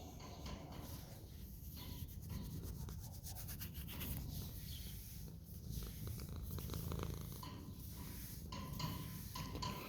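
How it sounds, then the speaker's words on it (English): A cat purrs softly and continuously nearby, a low rhythmic rumble rising and falling with each breath, with faint rubbing sounds mixed in. "He's got a big purr."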